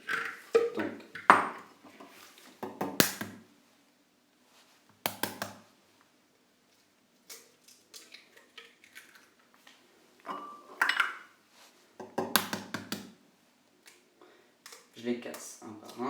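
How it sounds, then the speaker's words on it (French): Eggs cracked one by one against a bowl set over a pan of water for a chocolate cake, giving several sharp, close taps and glassy clinks separated by quiet gaps, with faint talking in between. "Donc ensuite, je vais venir casser les œufs."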